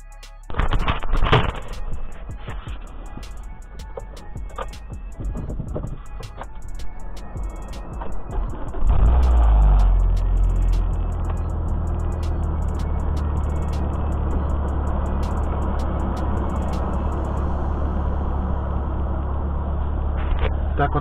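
A Lifan Cebrium 720 car starts off and drives away, a low engine rumble building and then holding steady under faint clicks and rattles from inside the cabin.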